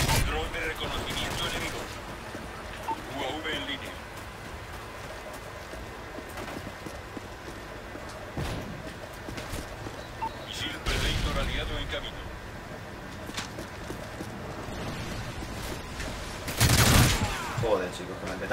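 Bursts of automatic gunfire from a Call of Duty Modern Warfare 3 match, clustered in a few loud volleys with quieter game noise between, including one heavy burst near the end.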